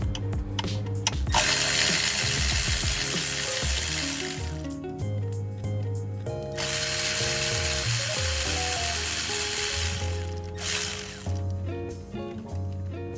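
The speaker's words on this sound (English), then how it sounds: "go ahead and take your 10 millimeters bolts back off" A ratchet clicks through bursts of rapid pawl ticking while backing out 10 mm bolts from a BMW fuel injector rail, close and loud, with pauses between runs.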